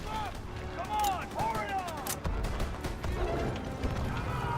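Call of Duty WW2 battle around a tower: rapid gunfire and distant blasts crack over a busy, noisy soundscape, with shouted voices and running footsteps mixed in.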